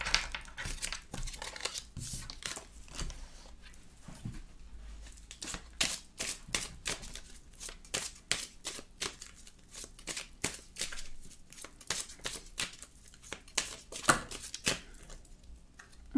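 Tarot cards are shuffled and drawn by hand, producing a continuous run of crisp, close flicks and riffling snaps with no talking.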